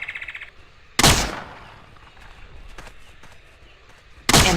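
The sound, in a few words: Swedish Lindstrap gun firing in video game Trespasser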